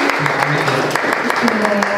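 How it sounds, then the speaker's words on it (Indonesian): Applause from an audience at an Indonesian talk on artificial intelligence in public-interest media content, thanking the speaker. The clapping is steady and fairly close and runs about two seconds, with voices mixed in underneath. "Boleh kita kasih tepuk tangan sekali lagi"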